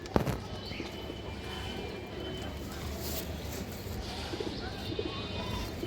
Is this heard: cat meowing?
no